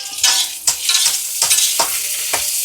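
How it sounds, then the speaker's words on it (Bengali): Pointed gourd frying in a wok, loud close sizzle broken by about five rhythmic stirring scrapes in quick succession, with no voices. "ওদিকে পটল কড়াইতে বসিয়েছি, উচ্ছে ভাজা হবে"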